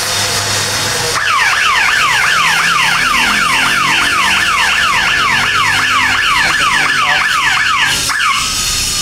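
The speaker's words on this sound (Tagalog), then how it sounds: "Once na may malindi niya, mag-trigger agad ng alarm yan." Alarm of a newly installed electric fence set off, a loud rapidly warbling electronic siren that starts abruptly, cycles evenly for about seven seconds and then cuts off, close by over a low hum.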